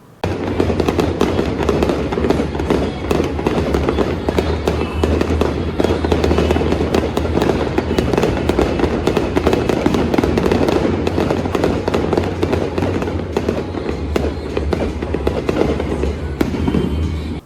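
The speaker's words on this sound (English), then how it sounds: "I reckon that fireworks display went for almost 10 minutes." A fireworks display at a stadium after an MLB baseball game, Astros versus Rangers, crackles and booms nonstop, dense rapid bangs and pops layered over a deep rumbling roar from a distance.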